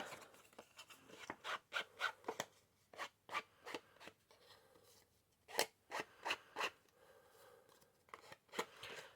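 Crisp, repeated snipping of scissors, close and fairly quiet, in uneven bursts with short pauses between cuts.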